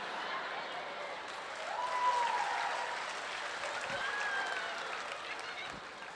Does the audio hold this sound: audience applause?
yes